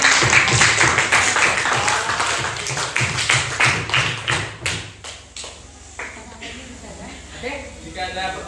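Applause from a class audience: dense, close clapping for about five seconds that thins into scattered claps, with voices murmuring underneath.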